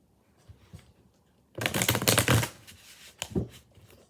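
A deck of Mystic Moon Oracle cards is shuffled up close: a few soft taps, then a dense riffling burst lasting about a second, followed by a couple of lighter card flicks.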